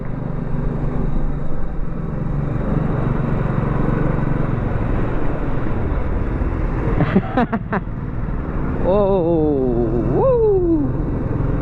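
A motorcycle leans through a curve on a ride across central India, its engine a steady loud drone with wind roar throughout, and a voice cheering and exclaiming over it.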